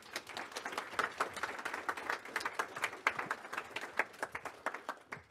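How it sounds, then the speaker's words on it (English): An audience claps for the sponsors at a student education session, producing a steady burst of many crisp, close hand claps that continue throughout. "let's clap it up for the sponsors"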